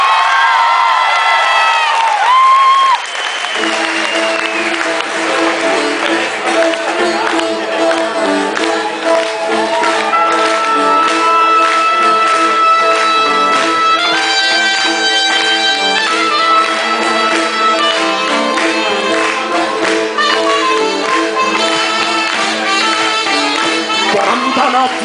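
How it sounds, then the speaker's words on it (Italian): A live folk-rock concert crowd cheers and whoops loudly at first, then the band's music takes over and the crowd's noise carries on beneath it. "Un applauso ancora Andrea"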